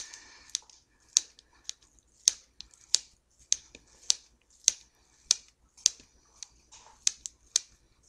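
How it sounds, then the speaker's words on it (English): Scissors snipping pepperoni into small shreds, a steady run of about a dozen crisp, close cuts spaced roughly half a second apart in a quiet room. "we're just going to cut it into small pieces with the scissors"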